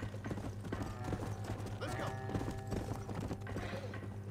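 Horse hooves in Red Dead Redemption clip-clop in a steady, continuous rhythm over a dense layer of music and other game sounds.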